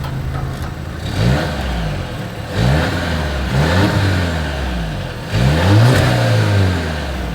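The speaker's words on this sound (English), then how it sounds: "As always, here is that exhaust clip." A 2023 Volvo XC60's exhaust revs repeatedly, several sharp climbs in pitch that fall back to a steady idle between them, loud and close.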